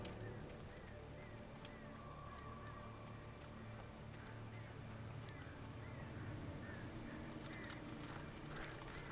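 A bird calls in the Alan Wake video game, brief honking, goose-like cries repeating over a dense, steady ambient bed of wind and water-like noise, with a faint voice in the background.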